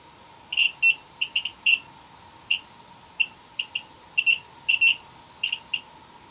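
An EMF meter in a dark, reportedly haunted orphanage in Gettysburg gives off sharp, high electronic beeps, sometimes singly and sometimes in quick pairs or triplets, at irregular intervals over a faint steady hum.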